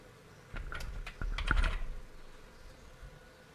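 Computer keyboard typing while filling in a Windows 10 form: a short burst of quick, close keystrokes, then quiet.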